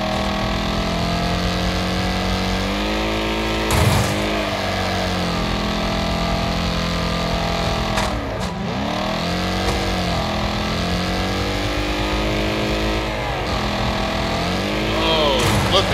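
Race cars in the video game Wreckfest rev steadily in a loud, continuous engine drone, with pitch sweeping down and back up through gear shifts and a few brief crashing bursts.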